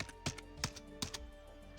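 Keys on an older-style computer keyboard in a security surveillance setting are typed in a few quick, light clicks spaced irregularly, fairly close and quiet over a faint steady hum.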